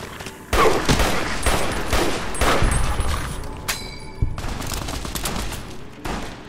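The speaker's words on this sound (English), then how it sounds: "Who's shooting at me?" Gunfire in the video game Fallout: New Vegas, using armor-piercing rounds, comes as rapid bursts of shots and a dense volley that falls away into scattered reports, loud and close with no speech.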